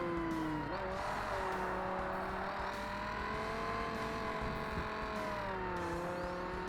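A race car engine in Forza Motorsport screams steadily at high revs, its pitch rising and dipping through gear changes and braking, loud and continuous with faint tire noise and no talk.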